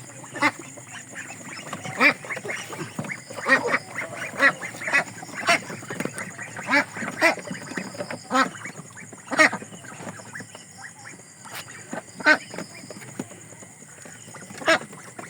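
Ducks quack repeatedly in short, irregular bursts, several birds calling close by from their coops over a low background murmur.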